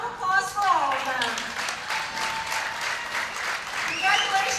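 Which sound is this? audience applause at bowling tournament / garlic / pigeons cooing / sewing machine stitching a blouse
audience applause at bowling tournament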